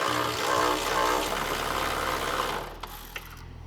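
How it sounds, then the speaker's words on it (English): A 3/8 ratchet or electric ratchet spins out a loosened bolt on a Can-Am Maverick R frame, giving a steady, close mechanical whirring and clicking that stops after a few seconds, followed by a couple of faint metallic taps. "we're going to end up just using a 3/8 ratchet or electric ratchet to get it off"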